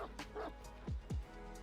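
A dog in the video game Dead by Daylight gives two quick yipping barks in close succession, faint and brief against soft background game sound.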